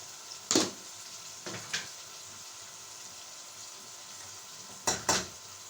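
Potato bhujia fries in a pan under a soft, steady sizzle, while a few sharp scrapes and clatters mark chilli being added and stirred in.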